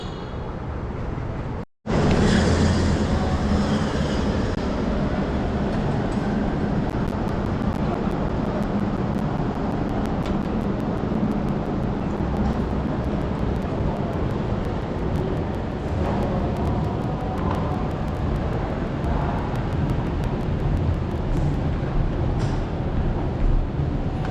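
Ride aboard a train toward Cold Spring, New York: a steady low rumble and rolling wheel noise fill the cabin continuously, broken only by a brief dropout near the start, with faint ticking clacks above.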